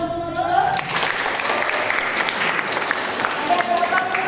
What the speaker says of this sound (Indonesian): Oke, tepuk tangan untuk Nurul.